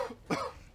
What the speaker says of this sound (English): Excuse me, guys. My cough.